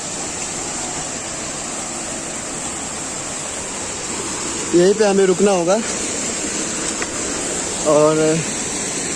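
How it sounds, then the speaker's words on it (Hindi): A jungle river flows steadily, a constant broadband rush of water close by, while someone speaks over it in two short bursts. "मैं सुन पा रहा हूँ नदियों की आवाज़"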